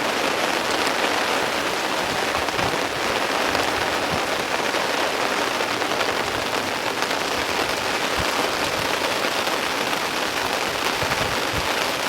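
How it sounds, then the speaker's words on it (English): Steady, dense rain drums on a fishing bivvy, a constant close hiss of drops with no break for the whole stretch. "watching the rain come down."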